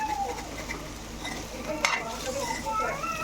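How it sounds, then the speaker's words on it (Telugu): Nalleru stems frying in a pan while being stirred with a spoon, a bright continuous sizzle broken by scraping strokes and a sharp clink against the pan partway through. "మధ్య మధ్యలో కలుపుకుంటూ ఉండాలి, లేకపోతే మాడిపోతాయి"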